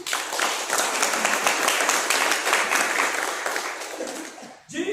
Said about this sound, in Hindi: तो मुसलमान भाइयों के लिए भी ताली बजाइए।